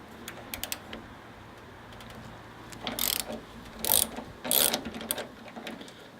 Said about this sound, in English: First of all, you have to undo this bolt with a T40 Torx head.